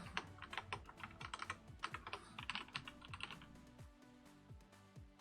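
Someone types on a computer keyboard during Minecraft mod testing, with a quick, uneven patter of close, light key clicks that thins out toward the end.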